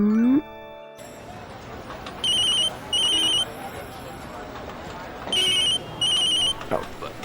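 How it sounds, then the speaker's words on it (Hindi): A telephone rings in a domestic TV drama scene, repeating bright electronic trills in evenly spaced bursts over a murmuring background, with a brief musical sting at the start. "लल्ला कब से फोन बज रहा है? उठाओ ना इसको।"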